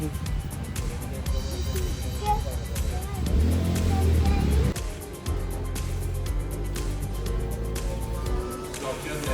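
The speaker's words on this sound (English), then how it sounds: "the traffic is kind of loud" Steady roar of passing cars and engine rumble fills the scene, loud and close, with a person talking over the traffic noise.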